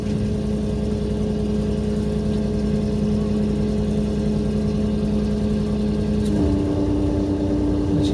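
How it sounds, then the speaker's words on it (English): Sailing yacht's inboard diesel engines running steadily while motoring into a tidal harbour entrance, a continuous low drone that shifts in pitch as one engine is cut and the other keeps running. "It's changing to one engine now."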